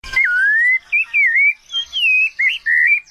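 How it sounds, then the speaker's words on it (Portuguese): Rufous-bellied thrush (sabiá laranjeira) song: clear, fluting whistled phrases rising and wavering in a mellow melody, several short segments separated by brief pauses, close and loud. "Sabiá laranjeira."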